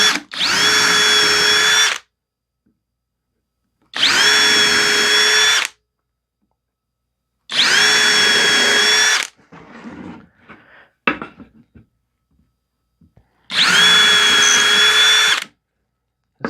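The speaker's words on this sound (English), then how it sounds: "use our drill bit and go ahead and drill some holes here" A power drill bores into hardwood in four loud bursts of about two seconds each, separated by silence, with some clattering and handling noises between.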